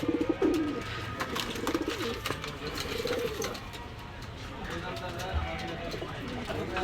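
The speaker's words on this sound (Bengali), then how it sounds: "এটা শিয়ালকুঠি নর, এটা টেডি নর, একটা কালশিরা, খুব সুন্দর একটা কবুতর।" Pigeons, including Pakistani breeds offered for sale, coo softly in a cluster of low murmurs beneath someone speaking steadily throughout.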